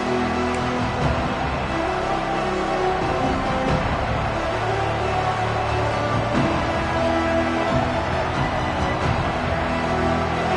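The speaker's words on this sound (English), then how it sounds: "This place is roaring" A dense, steady roar of a large football stadium crowd fills the whole stretch, loud and continuous with no pauses.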